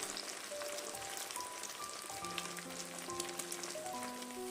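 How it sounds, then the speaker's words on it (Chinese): A tomato and egg mixture fries in hot oil in a pan with a soft, steady, rain-like sizzle, heard faintly throughout alongside a few gentle sustained tones. "倒入腌好的西红柿鸡蛋液，先用铲子铺均匀，给它煎一下"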